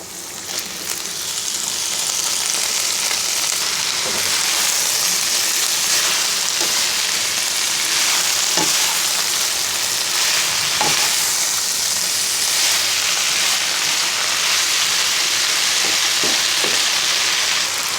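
Potato greens hit hot oil with browned onions in a pan being readied for shing fish, a loud, steady sizzle and crackle that goes on throughout, with occasional soft stirring knocks and no talking.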